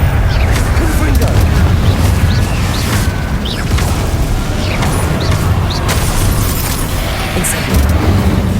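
Confringo blasting-spell explosions in the video game Hogwarts Legacy boom loudly and densely over a continuous rumble of combat, with a voice talking throughout.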